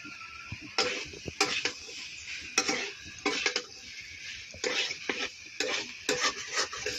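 Bay leaf and onions frying in oil, a faint low sizzle under repeated spoon-against-pan stirring strokes, sharp scrapes and clinks coming in irregular bursts close by.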